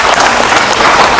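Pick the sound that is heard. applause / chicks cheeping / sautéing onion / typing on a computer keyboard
applause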